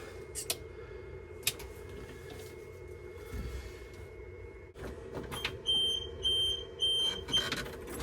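Repeated short electronic beeps in an even rhythm from a Bobcat G30 telehandler's backup buzzer, rising over a quiet hum after a few clicks.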